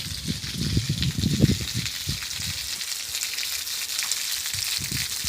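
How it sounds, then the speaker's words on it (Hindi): Water gushes and splashes steadily from a motor-driven pump at a farmhouse, a close, hissing rush with irregular low bursts and no talking. "मोटर चला दी मैंने, आप पानी में खुद चेक कर सकते हैं"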